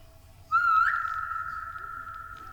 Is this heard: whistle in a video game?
yes